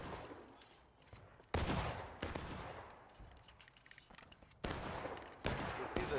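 Musket volleys in the game War of Rights, sharp loud cracks arriving in scattered clusters, some close and some farther off, with ragged echoing tails between shots.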